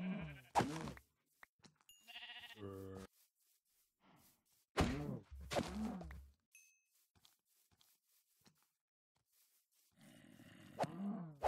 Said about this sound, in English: Oh, there's a cow.